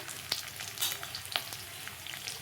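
Tempering sizzles in hot oil, a faint, low crackle with a few sharp clicks and stirs in a short stretch.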